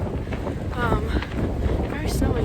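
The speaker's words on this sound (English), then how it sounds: "It's very windy" Wind buffets the microphone on a snowy hiking trail, a steady gusting rumble under someone talking.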